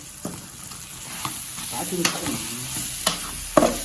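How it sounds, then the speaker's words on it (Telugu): Ginger paste fries in a pan for mutton curry, a close, moderately loud sizzle broken by scraping stirs and sharp clinks of a spoon against the pan. "కొంచెం అల్లం పేస్ట్ కొంచెం వేగాలి"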